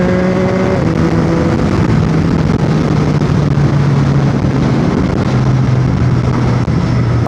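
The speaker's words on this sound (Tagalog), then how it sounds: "Sarap sa tenga nung tunog ng pipe niya." A Yamaha MT-09 third-generation motorcycle rides with its exhaust note droning steadily, its pitch stepping down and then holding as it cruises, loud and close with no talk.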